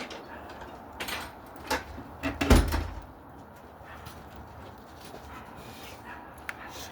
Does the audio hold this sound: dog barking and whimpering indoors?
yes